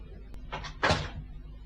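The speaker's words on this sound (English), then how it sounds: "Close the door." An office door swings shut with a muffled thud after a faint creak, fairly quiet and close in an otherwise still room.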